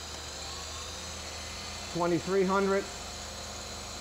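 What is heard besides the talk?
Technica ZSM 5100 center hole grinder wheel spinning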